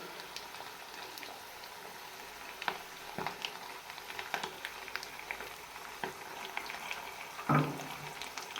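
Potato slices sizzling in a pan for a breakfast potato and egg omelette, a steady faint crackle and hiss with a few sharper pops, no voices.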